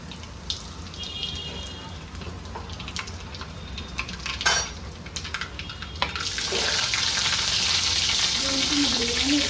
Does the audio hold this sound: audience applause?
no